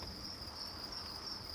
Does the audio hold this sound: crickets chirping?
yes